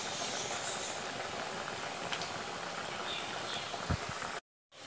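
Mirugu vada, a pepper vada, deep-frying in hot oil: a steady, soft, continuous bubbling sizzle with faint crackles, cutting off abruptly near the end, no talking.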